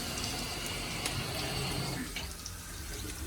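A tap runs hot water while a greasy cooking pan is rinsed in a hostel kitchen, a close, steady rush of water with splashing that eases slightly toward the end.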